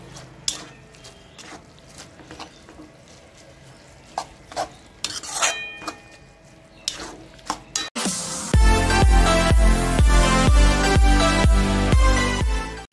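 Noodles tossed with Maggi masala and chili flakes in a pan for spicy chili garlic noodles: scraping, clinking stirs for about eight seconds, then loud rhythmic music takes over.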